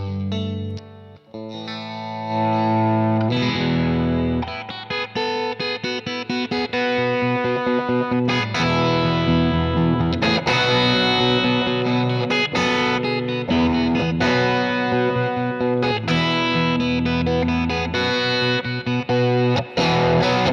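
Electric guitar, a Les Paul or Strat, played through an amp with the gain on 10: a thick, loud, saturated distorted tone of sustained chords and riffs that runs continuously, with no talking.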